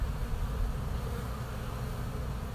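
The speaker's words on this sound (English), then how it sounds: "Ooh, do you hear that buzzing?" Honey bees buzz around a bird bath used as a water source, a faint continuous droning hum with no voices.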